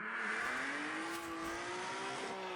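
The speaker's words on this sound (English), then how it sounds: "The fact I don't want to listen because of the engine noise." A straight-piped BMW engine holds a steady, raspy high rev during a burnout competition, its pitch rising slightly and staying rough and continuous throughout, heard fairly faint.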